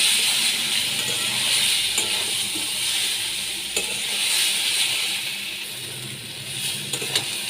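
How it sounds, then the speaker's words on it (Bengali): Shrimp and taro stolons sautéed with a squeeze of lime, a loud steady sizzle close up with scattered clicks and scrapes from stirring in the pan. "এর মধ্যে চিংড়ি মাছগুলো আমি দিয়ে দিয়েছি এবার দিয়ে ভালো করে আমি কষিয়ে নিচ্ছি"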